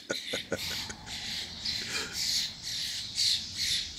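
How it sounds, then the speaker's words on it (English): Two birds fighting in Detroit, squawking harshly and repeatedly at close range, a string of loud raspy calls over several seconds with scuffling clicks early on. "Oh my God, look at these two birds go at it."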